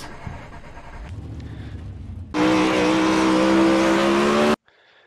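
A race car in a racing video game laps the Lernerville dirt track, its engine a loud sustained drone that swells in abruptly, holds steady for a couple of seconds, then cuts out sharply after quieter game ambience.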